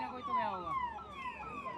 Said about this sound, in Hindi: यहाँ देखिए लगातार एम्बुलेंस बाहर निकल रही हैं और लोगों को यहाँ पर रेस्क्यू किया जा रहा है